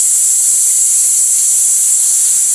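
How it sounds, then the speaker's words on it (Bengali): Boiled potatoes and pointed gourd tipped slowly into a hot wok of oil tempered with five-spice and a chilli, giving a steady, close, bright sizzle that holds evenly throughout with no talk. "সিদ্ধ আলুগুলো আর পটলটা একটু সিদ্ধ করেছিলাম কড়াই আস্তে আস্তে ঢেলে দিই"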